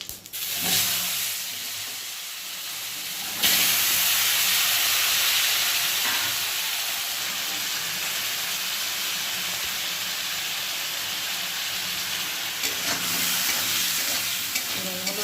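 Vegetables hit hot oil already tempered with cumin seeds, setting off a loud, steady sizzle with hissing steam that jumps in intensity partway through and keeps crackling evenly throughout, with no voices.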